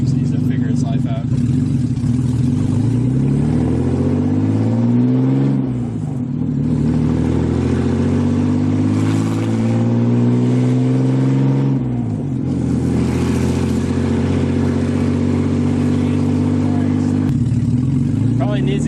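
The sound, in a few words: car with rebuilt forged BMW S52 engine revving, no exhaust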